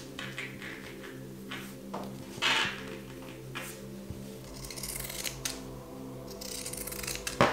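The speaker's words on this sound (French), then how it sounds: "Et je vais découper tout le tour." Fabric being cut with scissors around a pinned kitchen oven-glove pattern, giving soft repeated snipping and sliding blade sounds at close range over a steady low background hum, with no talking.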